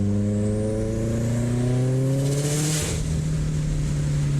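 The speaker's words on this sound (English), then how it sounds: "The sound of that turbo just spooling up." A turbocharged car running E80 ethanol revs hard as its engine note climbs steadily under load, then a brief rushing burst comes at the shift before the engine settles into a lower steady drone. No one speaks.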